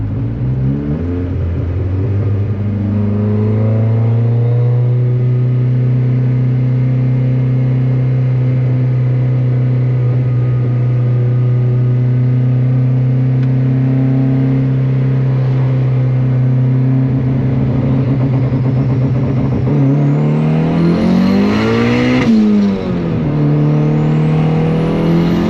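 A turbocharged Honda Civic fitted with anti-lag holds a loud, steady engine drone, then revs sharply upward with a rising whine and crackle near the end, close up and without talk.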